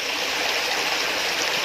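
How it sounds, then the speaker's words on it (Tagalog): Mountain creek water flowing steadily, a close, continuous rushing and bubbling babble with no break. "So ito mga idol, ito yung creek."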